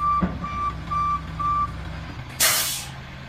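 A dump truck idles, its reversing alarm beeping four times in even rhythm, then a loud hiss as the air brake releases, close by with no talk.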